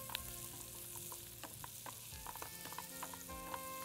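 Mixed vegetables are sautéed in a pan, kept crisp, with a steady close sizzle and frying hiss and scattered clinks from a stirring spoon, and no talk over it.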